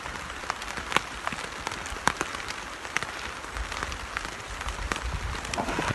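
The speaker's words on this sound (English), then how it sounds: "As you probably can hear, it is raining." Rain falls steadily on a wet-weather hammock and bivvy camp, a dense, even patter with scattered sharper drip ticks close by; no one speaks.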